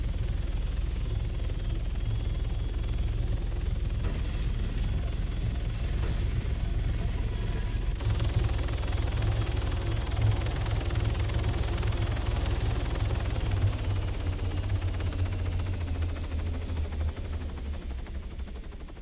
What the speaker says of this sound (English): I could showcase a skid landing, which is a lot more exciting in ArmA than it is in Wildlands